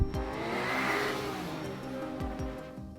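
A Toyota Land Cruiser SUV, body-on-frame on the TNGA-F platform, cruising along a twisty highway, with a steady close engine and road drone, broad tire and wind roar, and a few low thumps from bumps in the road.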